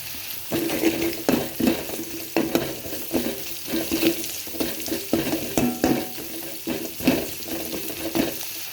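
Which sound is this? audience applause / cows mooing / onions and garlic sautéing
onions and garlic sautéing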